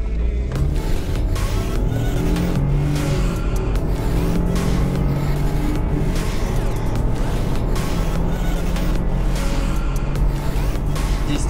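A BMW 318i in sport plus mode accelerates hard, its engine roaring loud and steady throughout with a rising, shifting tone and no talk over it.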